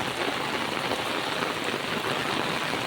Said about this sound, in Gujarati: કેટલો વરસાદ પડે છે આમાં, જોઈ લો